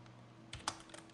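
A few light keystrokes on a computer keyboard while entering an expression in motion graphics software, soft and close over a steady quiet hum, with no talking.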